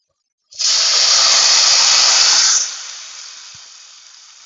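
Tomato puree hits a hot pan of browning garlic with a sudden loud, steady sizzling hiss that lasts about two seconds, then eases into a quieter fading sizzle, close up and with no talk.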